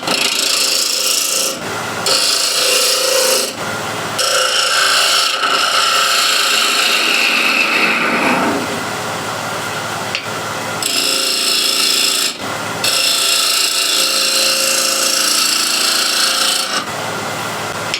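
A spindle gouge cuts a wooden box turning on a lathe, producing loud continuous scraping and rasping close by, broken by brief pauses as the tool lifts off the spinning wood.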